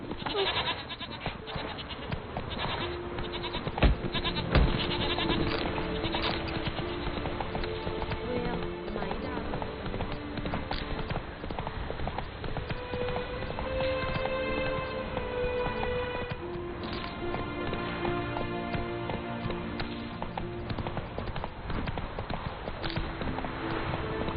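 Horse hooves clip-clopping at a trot in The Witcher 3, a steady rhythmic patter running throughout under game music, ambient sounds and some talk.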